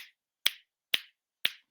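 Four crisp finger snaps, alone and evenly spaced about half a second apart, each a sharp bright click that decays quickly into silence.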